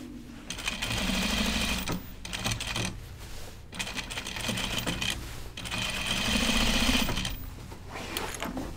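A sewing machine runs in several sustained bursts while top stitching a seam on a pair of jeans, a close, rapid mechanical whir that stops briefly between runs.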